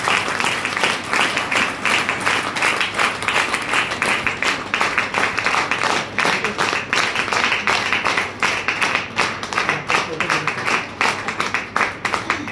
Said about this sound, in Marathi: सरांसाठी जोरदार टाळ्या उंजव द्या